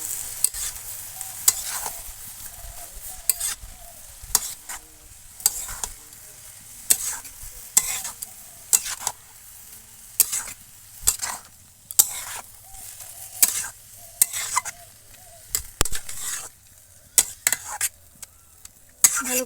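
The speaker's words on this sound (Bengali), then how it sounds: "ভালো করে নাড়াচাড়া করে হলুদ আর লবণটা ভালো করে মিশিয়ে নেব" Spatula stirring turmeric and salt into cabbage in a frying pan, a quiet sizzle underneath repeated scraping strokes that come in uneven bursts every second or so, close and moderately loud, with no talking.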